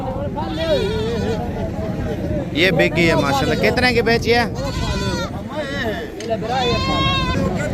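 Goats bleat repeatedly at a goat market where nanny goats with kids are sold, with near and farther animals calling over one another while people talk and bargain throughout.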